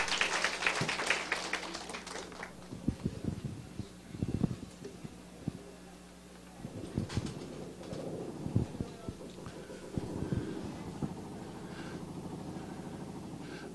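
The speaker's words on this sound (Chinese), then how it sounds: "我们再给他鼓掌" A short burst of audience applause at a Taiwanese political meeting opens the stretch, then fades into quieter ambience with cooing pigeons and a faint engine hum.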